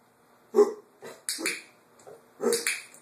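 A dog gives several short, soft barks and yips in quick succession, close by, with no talking in between.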